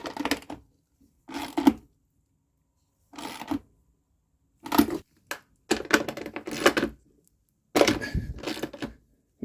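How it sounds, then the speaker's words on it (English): A small 1/4-inch ratchet tightens the bolts on a Dometic 320 RV toilet, giving several short bursts of quick ratcheting clicks separated by pauses, close and fairly quiet. "You might notice I'm using a little 1/4-inch wrench or ratchet so I don't put too much heft on it."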